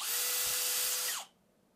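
A Bosch Professional GSB 18V-65 cordless drill whirs at high speed for about a second, then winds down and stops, leaving quiet.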